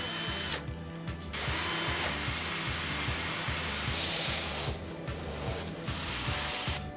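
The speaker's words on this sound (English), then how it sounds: "We screw the templates down." Power driver screwing bodyboard shaping templates down in a board-shaping workshop, heard as repeated ratcheting bursts of whirring with short pauses between them, close and steady, with no talking.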